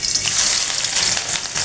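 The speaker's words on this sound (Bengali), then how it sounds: "প্রথমে আমি দিয়ে দিচ্ছি পেঁয়াজ কুচি" Chopped onion sizzles loudly as it hits a hot pan, the start of a Bangladeshi dried fish curry with jackfruit seeds; a steady close frying crackle with small popping bursts, no talking.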